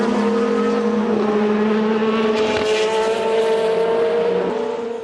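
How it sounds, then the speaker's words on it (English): A race car in the European Le Mans Series, Jota Motorsport's entry running third, drives past with a loud, steady engine note that holds high and bright, with a brief surge in pitch midway, heard alone. "Here we join the 3rd place car, Jota Motorsport, who is 9 seconds behind the 2nd place car of Brendan Hartley"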